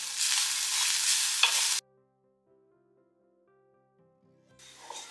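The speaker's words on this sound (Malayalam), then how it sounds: "കുരുമുളക്, പെരിഞ്ജീരകം ഇത്രയും കൂടെ ചേർത്ത് ചുവന്ന് വരുന്നവരെ നമ്മൾ വറുത്ത് കൊടുക്കുകയാണ്" Black pepper and fennel seeds dry-roasting in a pan for a raw mango curry, with a dense close hiss and stirring that cuts off abruptly, then quiet before a fainter sizzle returns.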